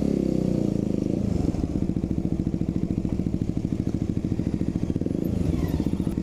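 A police motorcycle engine chugs with a steady, rhythmic low rumble close by, holding a constant pace throughout with no talking.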